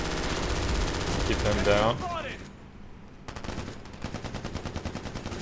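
Heavy machine gun fire in the BRINK shooter game, a dense burst of rapid shots at first, then sustained rhythmic firing after a short lull, with someone talking over it.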